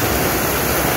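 Water pours over a mill stream dam at Old Factory Square in Maine, a steady, dense rush like a small waterfall, heard alone.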